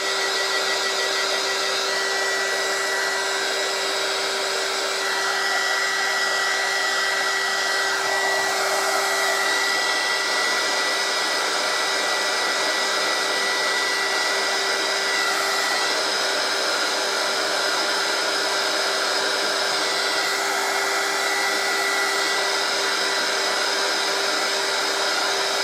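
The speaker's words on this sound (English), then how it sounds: "So we'll turn on a heat gun." A heat gun roars continuously at close range with a loud, even airy blast and a steady high motor whine, unchanging for the whole stretch while drying crafted Christmas tags.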